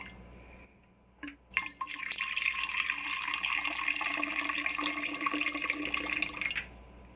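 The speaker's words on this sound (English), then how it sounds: "we're going to do 100 grams or milliliters of water" Water pours into a jar of sourdough starter being fed, a steady close trickle and splash that starts after a few faint drips and runs for about five seconds before stopping abruptly.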